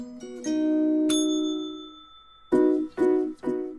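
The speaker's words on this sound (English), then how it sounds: "You'll hear a bell." A school bell rings out with a bright metallic ding that sustains and fades, then a sharper ting, followed by three quick repeated clangs near the end, loud and close with no voices.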